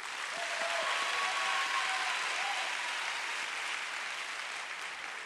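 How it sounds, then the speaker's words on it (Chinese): Steady applause from an awards-ceremony audience in a hall, a dense, even wash of many hands clapping that holds at a constant level throughout, with no talk over it. "掌声鼓励"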